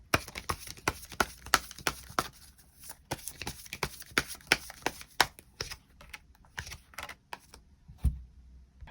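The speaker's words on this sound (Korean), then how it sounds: "추가 카드 뽑아보도록 하겠습니다" Tarot cards being shuffled and drawn, a quick run of crisp, close riffling clicks and flicks that thins out into scattered taps, with a soft thump near the end and no speech.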